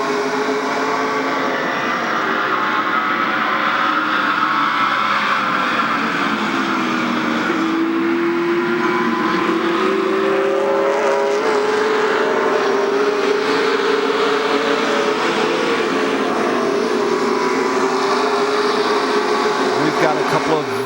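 Two race cars run side by side at Illiana Speedway in 2003, the number 16 and the 00. Their loud, steady engine roar rises in pitch as they hold flat out, and a commentator's voice runs over the noise.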